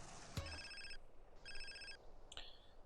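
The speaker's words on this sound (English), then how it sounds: "You have a phone call right here." A phone rings in GTA San Andreas, during a Las Venturas mission set in a small ghost town: two bright electronic ring bursts with a short gap between them, alone and clearly in the foreground.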